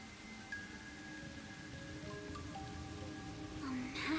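Steady rain hisses across the surface in the Rain Code video game, a constant wash of falling drops beneath faint tonal game music, swelling slightly toward the end.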